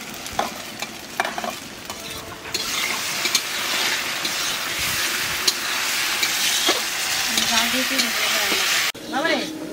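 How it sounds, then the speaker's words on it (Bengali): Garlic paste sizzling loudly in a pan of fried onions, with steady frying hiss and scraping stirring throughout, briefly joined by a faint voice in the background. "পেঁয়াজ ভাজা হয়ে গেছে, রসুনটা দিয়ে রসুন বাটাটা দিয়ে দেবো।"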